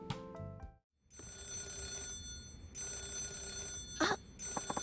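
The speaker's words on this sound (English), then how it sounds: "The phone's ringing." A telephone rings in the video game Yakuza 0, a loud electronic bell repeating in long bursts separated by brief gaps, clear and close.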